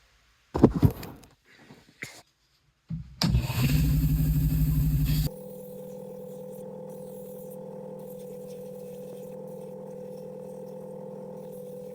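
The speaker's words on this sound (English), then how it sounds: "We'll round it off with the sander and see how it looks." A power sander rounds off a wild cherry wood slingshot: a few knocks, then a harsh burst of grinding, followed by a steady, moderate motor hum running to the end.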